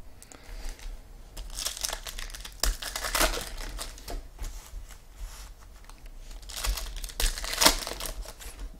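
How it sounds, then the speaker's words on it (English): Foil packs of 2015 Topps Finest baseball cards being torn open, with crinkling and rustling wrappers and shuffling card sounds in irregular bursts, fairly close and moderately quiet. "let's start opening some packages of sports cards"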